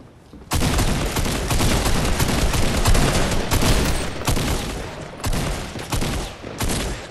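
Rapid sniper and rifle fire in a shooter video game, loud and nearly continuous bursts of shots with brief gaps, close and dense throughout, no talk heard.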